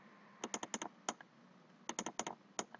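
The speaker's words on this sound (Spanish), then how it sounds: "Ahora, si hago tres clics" Mouse button clicks on a computer running Microsoft Word, heard as two quick bursts of crisp clicks, about six in the first and seven in the second, near and moderately loud with no talking.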